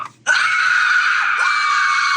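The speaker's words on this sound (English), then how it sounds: "So if I hit record now, you should hear our scream effect play." A PicoBoo MP3 Halloween prop controller plays a shrill recorded scream effect. It bursts in abruptly and holds loud and steady for about two seconds.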